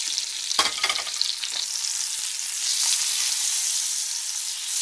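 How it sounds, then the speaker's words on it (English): Shortening sizzles in a hot pan. A few utensil clinks and scrapes come early, then a steady, close frying hiss continues alone without voices. "So that's the sound of the shortening."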